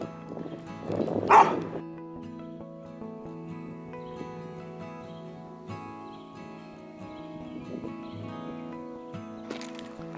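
A big dog on a hiking trail in Shawnee country gives a loud bark or yelp near the start, followed by quieter shuffling and faint movement, with a brief sharp burst near the end.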